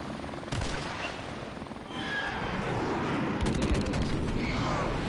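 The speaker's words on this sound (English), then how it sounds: "Friendly airstrike on the way!" Video game airstrike: a dense, continuous roar of aircraft and explosions with rattling bursts of gunfire layered through it, loud and unbroken for the whole stretch.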